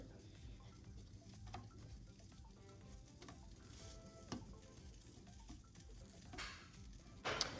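Tortillas for chilaquiles toast in a hot pan with a soft, steady sizzle and faint crackles and pops, quiet and close, with no voices.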